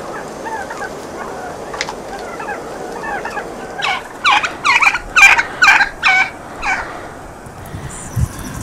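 Turkeys gobble in a rapid burst of loud, rattling calls, preceded by softer scattered clucks and chirps from the flock, close by and with no speech over them.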